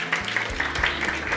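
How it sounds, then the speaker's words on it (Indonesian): Applause from an audience honouring a pastor after a church seminar session, a short dense burst of clapping filling the room with some low rumble underneath. "sekali lagi kita berikan tepuk tangan yang meriah"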